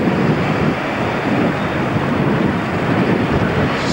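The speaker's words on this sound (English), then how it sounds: "A little bit of wind." Wind rushes steadily across an open seaside spot where Finland might be seen across the water on a clear day, a loud constant roar buffeting the microphone with no pauses.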